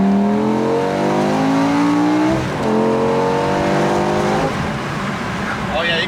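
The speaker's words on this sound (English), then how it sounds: "see if we can hear some plenum induction sounds from inside of the car" A BMW E60 M5 with exhaust valves closed, heard from inside the cabin as the V10 plenum induction rises in pitch through the revs, drops at a shift, then climbs again, loud and close.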